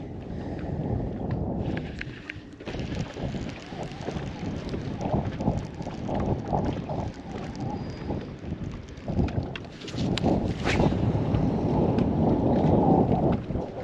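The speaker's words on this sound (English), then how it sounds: "The wind is just blowing us away." Strong wind roars over a lake around a bass fishing boat in a steady, loud rush of buffeting microphone noise, with gusts and a faint hum beneath, lasting the whole stretch without talk.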